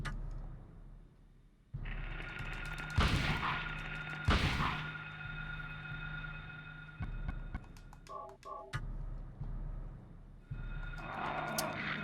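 Shotgun blasts in the Silent Hill 1 video game, two loud booming shots a second or so apart over a droning, throbbing game ambience with scattered clanks.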